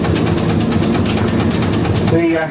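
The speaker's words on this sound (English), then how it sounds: "we do have lots of torque in this steam engine" Rhythmic chuffing and low mechanical throb of a high-torque steam engine driving the propeller of the steam launch Laurie Ellen, close and steady, with someone talking over it.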